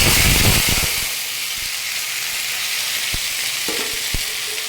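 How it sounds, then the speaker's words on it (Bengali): Boiled amaranth greens dropped into hot oil tempered with ginger and mustard seed: a loud, steady sizzling hiss throughout, with a few stirring clinks and scrapes of a spoon against the pan, close up and without voices. "আদা আর সরিষা ফোড়ন দিয়ে আমি শাকটাকে সব দিয়ে দিচ্ছি।"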